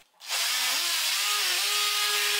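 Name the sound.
Black+Decker Multi Evo cordless oscillating sander sanding wood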